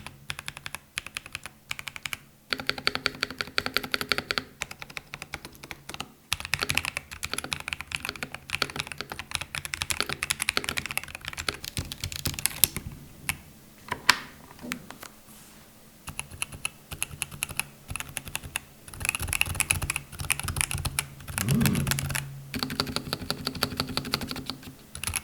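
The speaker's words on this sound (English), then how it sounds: "it's a gasket mounted keyboard, so the typing experience isn't super harsh" Typing on a Razer hot-swap, gasket-mounted keyboard with an FR4 plate and yellow switches: a steady stream of close, softened keystroke clacks, dense and continuous, with brief pauses between bursts and no voices.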